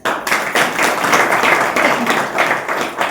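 An audience claps together in a Jain temple lecture hall during a Dashlakshan Parva talk, dense, steady applause filling the room for about three seconds with slight swells and no voices.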